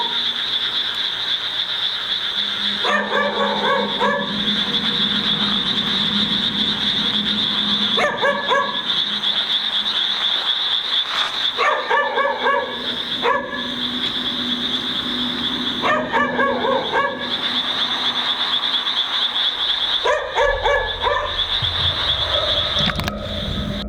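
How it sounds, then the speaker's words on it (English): A dog barks in a graveyard in repeated bursts of several sharp barks separated by pauses, set against a steady high-pitched insect or frog chorus, fairly distant with a constant ambient background. "he searches for the barking dog"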